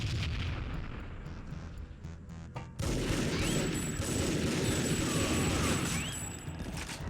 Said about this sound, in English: They're lobbing grenades.